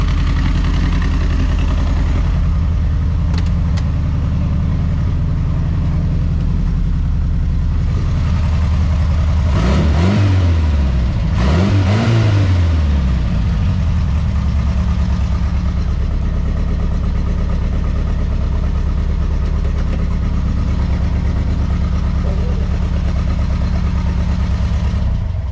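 A Ford Crown Victoria engine idles with a deep, steady rumble, broken by two quick revs that swell and fade before it settles back to idle.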